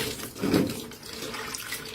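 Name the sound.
rinsing silk under running tap water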